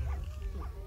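Quick, faint whimpers come from a pet dog in Minecraft, two short whining yips against a low, rumbling game background.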